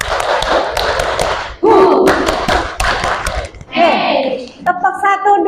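Children clap together in a classroom clapping game, sharp group claps landing in short counted bursts, mixed with a teacher's calls and kids' shouted responses, all close and lively.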